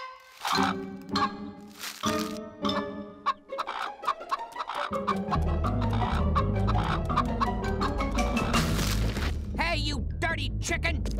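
A cartoon chicken in an animated samurai adventure clucks in loud, choppy bursts alongside a voice, then keeps up rapid squawks over a heavy rumbling boom.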